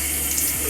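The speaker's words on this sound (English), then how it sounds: "I'm just going to rinse this off." Water runs steadily from a tap as a face is rinsed at a sink, a close, loud, continuous rush with no talking.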